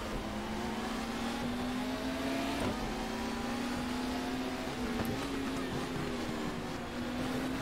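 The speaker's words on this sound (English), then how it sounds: "You can hear the engine is just not firing very well." A misfiring race car engine in the video game GTR 2, 1994 BTCC race at Brands Hatch Indy, drones steadily with an uneven, rough tone and occasional stutters, sounding somewhat synthetic and continuous throughout.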